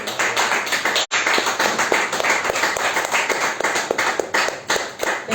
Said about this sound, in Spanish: Den esas fuertes palmas al Señor